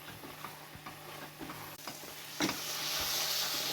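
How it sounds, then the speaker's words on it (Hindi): Carrot halwa cooking on high flame in a pan, a close, low sizzle with soft stirring scrapes and a louder clatter near the end, no voices. "और अब मैं इसको 5 मिनट फिर से जो है वो हाई फ्लेम पे पका लूँगी।"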